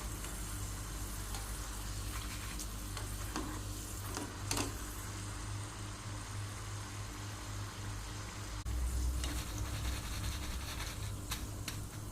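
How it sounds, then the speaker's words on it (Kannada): Peanuts and raisins fry in hot oil in a pan, giving a continuous close sizzle with occasional sharper crackles and a slightly louder burst near the end. "ಇವಾಗ ನೆಲಗಡಲೆ ದ್ರಾಕ್ಷಿ ಅದನ್ನೆಲ್ಲ ಇವಾಗ ಫ್ರೈ ಮಾಡ್ತೇನೆ"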